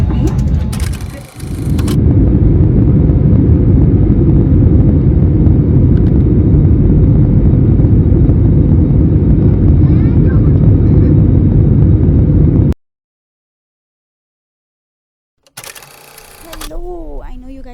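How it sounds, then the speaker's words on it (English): Steady, loud cabin drone of an airliner on a flight to Mumbai, a broad engine and air rush that runs unbroken for many seconds before cutting out, followed by brief rustling and a voice at the end. "Finally in the plane now."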